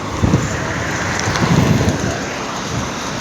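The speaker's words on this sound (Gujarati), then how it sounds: "અત્યારે મસ્ત ઠંડો ઠંડો પવન છે" Wind rushes steadily across the microphone, a continuous roar with low buffeting gusts.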